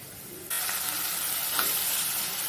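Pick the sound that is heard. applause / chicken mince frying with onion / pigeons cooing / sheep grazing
chicken mince frying with onion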